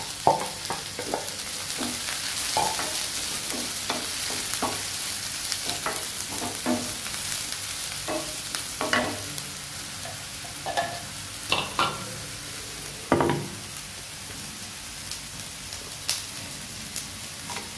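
Shallots and ridge gourd sauté in a pan, a soft steady sizzle broken by repeated light scrapes and clinks of a spoon stirring, fairly quiet and close, with no talk.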